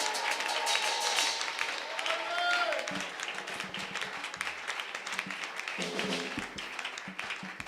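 A church congregation claps and cheers in a steady wash of applause, with scattered sharp claps and voices over the top and a voice speaking through it.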